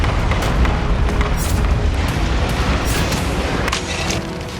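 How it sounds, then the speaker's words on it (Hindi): Heavy explosions from shelling in Gaza, a dense, sustained roar of booming blasts with no gaps, loud and close throughout. "इजरायली सेना पहले से ज्यादा विध्वंसक और विस्फोटक अंदाज में हमास का खात्मा करने के लिए ताबड़तोड़ गोला बारूद दाग रही है"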